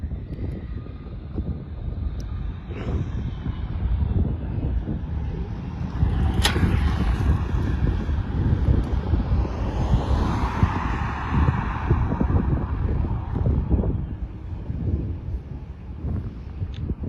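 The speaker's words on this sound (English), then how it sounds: "Oh yay, clamshell thrust reverse." Airliner touching down and rolling out with clamshell thrust reversers deployed, a broad, loud roaring rush that swells partway through and holds steady, with wind buffeting the microphone throughout.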